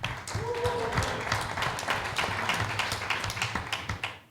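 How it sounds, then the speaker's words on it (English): An audience at a venture capital panel gives a steady round of applause that rises quickly and then fades, with a faint voice underneath. "Applause."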